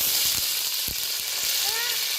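Dry red chillies, green chillies and curry leaves sizzle and crackle steadily in hot oil, a close, continuous frying hiss with a few sharper pops, no talking.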